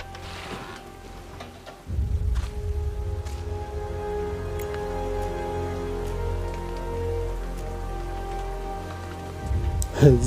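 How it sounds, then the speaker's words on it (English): Steady rain falling in the video game Metal Gear Solid: Peace Walker, a continuous hiss of drops that swells after the first two seconds and holds under faint background game sounds. "It's raining."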